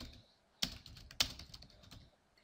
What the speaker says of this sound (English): If I click the text, you can type